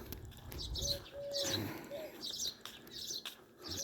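Birds chirp and coo outdoors, with repeated bright twittering bursts and a soft dove-like call underneath, moderately distant and steady.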